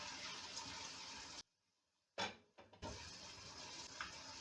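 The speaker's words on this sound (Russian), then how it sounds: "Чуть-чуть добавлю" Water pours steadily into a cooking pot of stewing mushrooms, tomato and herbs, a continuous splashing rush that stops abruptly, followed by a couple of brief clunks and then the pouring resumes.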